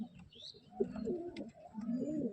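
Pigeons kept as pets coo softly in a low, rolling murmur, with a couple of overlapping calls swelling and fading over a faint background.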